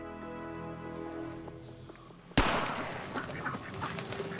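Ducks quack in a steady series during a duck hunt outdoors, then a sudden loud bang cuts in and noisy, busy sound follows to the end.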